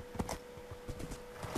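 Horse hooves clip-clop in the Minecraft video game as a quick run of soft, evenly spaced hoof thuds, faint and close, with no talking.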